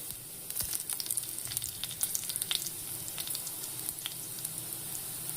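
Green chillies sautéing in a pan for dal tadka, a faint, steady sizzle dotted with small crackles and pops, plus a light clack or two near the start, with no talking.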